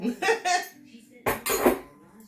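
Bowls clatter and knock together on a home kitchen counter, two close bursts of clanking ceramic, with brief murmured talk between them.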